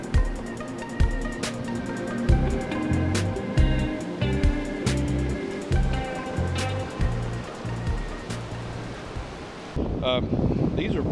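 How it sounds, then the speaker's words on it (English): Ocean waves splash onto the beach at Hunting Island, South Carolina, heard as a steady wash of surf with repeated thumping breaks and wind buffeting the microphone throughout. "I'm taking a few shots where I'm trying to show the waves splashing"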